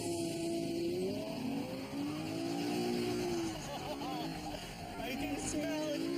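A new Chevrolet Camaro revs and accelerates on a driving course, with a steady engine roar and rising pitch throughout, a light tire squeal mixed in, and a person speaking over it.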